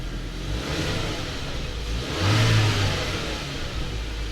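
A GWM Haval Jolion engine running after an oil change, a steady close hum with a slight swell in revs midway, even and continuous with no talk.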